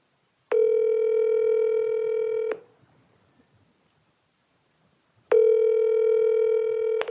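A telephone tone sounds steadily for two seconds, falls silent, then returns; a clean electronic tone heard close with nothing else around it.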